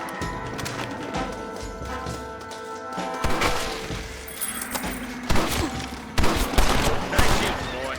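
Gunfire in a Red Dead Redemption shootout, several sharp shots cracking out in the second half over a busy game soundscape of hooves and thuds, with talk mixed in.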